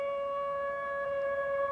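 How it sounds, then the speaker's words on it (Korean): A civil defense siren sounds a curfew warning in Seoul, a steady, loud, sustained tonal wail holding one pitch throughout, with no talk. "이 사이렌이 울리면은"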